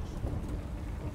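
Steady, dense rainfall in the Witcher 3: Wild Hunt game, a continuous hiss with low rumbling underneath, even and enveloping with no talk.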